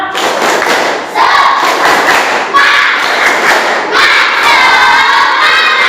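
Elementary schoolchildren in a class perform a rhythmic clapping chant together, loud group claps and thumps with shouted voices in unison, repeating in bursts.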